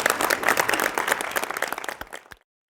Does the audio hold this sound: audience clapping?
yes